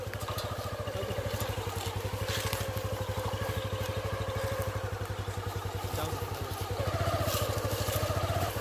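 A motorcycle ridden along a rough jungle track, its engine putting out a steady rapid thumping drone with faint rattles, close and continuous throughout.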